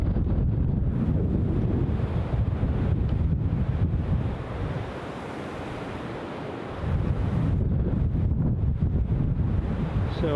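Strong gusts roar across the microphone at Newcastle International Airport, a heavy, blustery rush that dips briefly in the middle before surging back loud and close.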